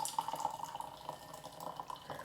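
Cold brewed tea poured out into a sink, a short light splashing and trickling of liquid with faint drips, alone and fairly quiet.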